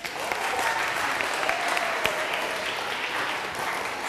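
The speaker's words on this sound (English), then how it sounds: "So everybody give Anna a round of applause." Steady audience applause, dense and continuous clapping from a crowd throughout, fairly loud and even.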